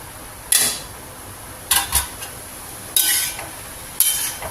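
A cooking pan of beetroot stir-fry being handled, with four separate sharp metallic clatters and scrapes spaced about a second apart over a faint background hiss, close and fairly loud.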